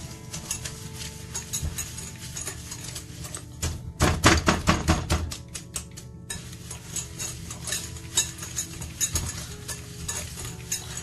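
A whisk beats overripe banana batter in a bowl, with rapid rhythmic clinking and scraping against the sides that swells into a brisk burst midway, then continues in softer irregular strokes.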